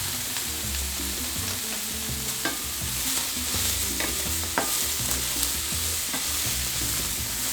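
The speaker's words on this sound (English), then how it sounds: "Give it a stir." Chopped vegetables sizzle steadily in a hot pan as a spoon stirs them, scraping and clinking now and then, while oil crackles close and continuous throughout.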